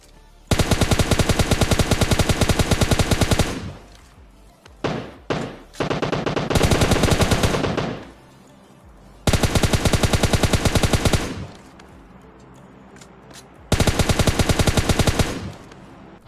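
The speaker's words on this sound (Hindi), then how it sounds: "तो फिर यहाँ तुम गोलियों की आवाजें सुनो बैठकर" Bursts of automatic gunfire from a PUBG video game riot rattle out in long, loud sustained volleys, separated by brief gaps and a few short scattered shots, with no talk.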